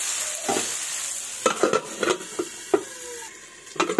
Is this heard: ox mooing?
no